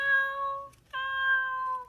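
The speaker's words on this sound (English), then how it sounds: "Oh, it's a cat." A cat meows twice, two clear harmonic calls close together and fairly loud, with a short gap between them and no talking.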